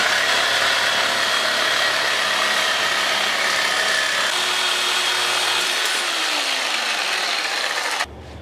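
Steady, loud abrasive cutting of steel exhaust pipe for a turbo side pipe on a drift car, a continuous harsh grinding rasp lasting about eight seconds before stopping abruptly, with no talk.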